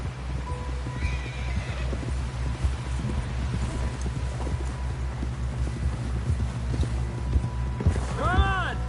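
In the snowy Red Dead Redemption 2 game world, a horse gallops with steady rhythmic hoofbeats and closes with a loud whinny, while a voice talks faintly under it.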